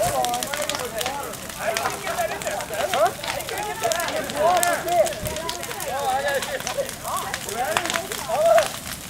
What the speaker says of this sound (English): Here's the bonfire.